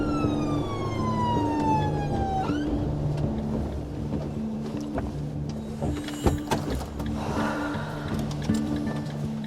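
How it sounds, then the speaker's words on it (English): An emergency siren sweeps downward and then cuts off, with a loud engine drone and clatter continuing underneath and a few sharp knocks later on. "The ambulance was called by the patient's son, Andrew."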